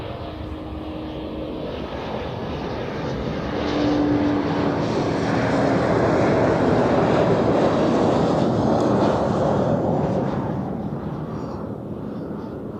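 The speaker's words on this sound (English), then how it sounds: "So here we have another Helvetic Embraer coming in" A Helvetic Airways Embraer jet comes in to land at Zurich Airport, a broad steady engine roar that swells gradually and holds loud and close for several seconds, with no talk over it.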